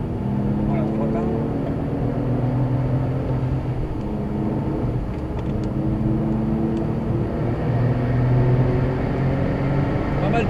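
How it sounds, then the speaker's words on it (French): Several Porsche 997 race cars, including 911 Turbo, GT2 and GT3 models, drone steadily on a racing circuit, a continuous engine roar with pitch shifts as they pass, while people talk over it. "Pas mal de Porsche sur le circuit là."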